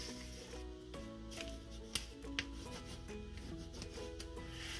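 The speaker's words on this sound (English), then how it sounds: "you're going to use your bone folder to burnish that down well into the chipboard" Bone folder burnishing paper down onto chipboard for a mini planner, a steady close dry rubbing with a couple of sharp taps, over a faint low hum.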